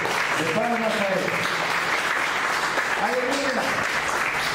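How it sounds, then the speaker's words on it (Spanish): Congregation in church giving steady, sustained applause, a continuous wash of clapping with a couple of brief voices calling out over it. "Denle una ofrenda fuerte de palmas a él."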